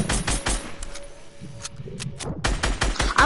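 Bursts of rapid gunfire crackle in a video game shootout, several volleys in quick succession with brief gaps between them, moderately loud and without talk.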